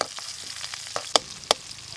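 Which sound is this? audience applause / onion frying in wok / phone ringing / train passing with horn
onion frying in wok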